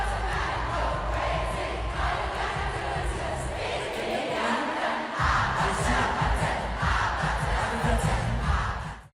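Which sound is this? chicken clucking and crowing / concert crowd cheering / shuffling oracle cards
concert crowd cheering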